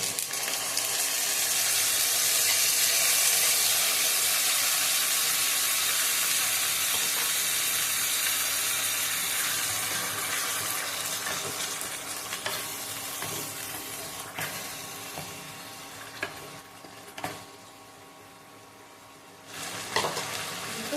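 Sauce poured into egg chilli frying in a pan over a high flame, setting off a loud, close hiss that gradually fades to a softer sizzle, with a few clinks and stirring sounds toward the end.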